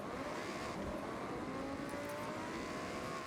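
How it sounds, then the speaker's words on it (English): A Lamborghini Huracan Sterrato on terrain tires in the Forza Horizon racing game roars steadily down a mountain, its loud, continuous engine drone rising and shifting in pitch with no talk over it. "So, I wanted to send you down the mountain in a Lambo."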